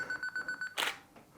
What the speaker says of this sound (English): Timer counting down.